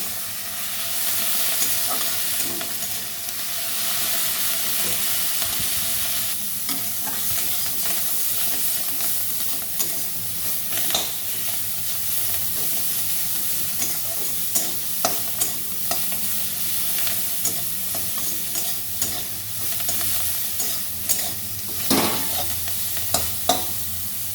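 Kharkol leaves stir-fried in a pan on a gas stove give a steady hiss and sizzle throughout, with scraping stirring strokes and sharper clicks growing more frequent toward the end, heard alone without talk.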